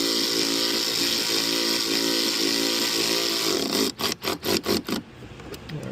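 A power tool tightens a bolt on an Ark splash guard fitted to the rear of a 2018-2022 Jeep Wrangler JL, running as a steady whine that breaks into five quick bursts near the end.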